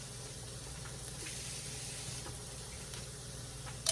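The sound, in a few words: onions and minced garlic sizzling in a pan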